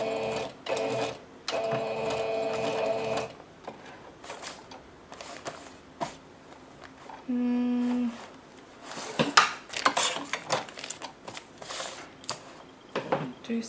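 A sewing machine stitches through a paper bag with the thread catching, running in several steady mechanical bursts of buzzing whir separated by pauses, handling rustles and brief clatter, fairly close and loud.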